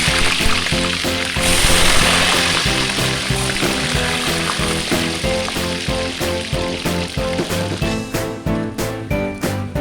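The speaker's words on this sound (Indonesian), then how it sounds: "Lanjut saya mau goreng terong selanjutnya ya teman-teman." Eggplant frying in hot oil in a home kitchen, a loud, steady sizzle and crackle filling the whole stretch, with rhythmic clatter near the end and no talk.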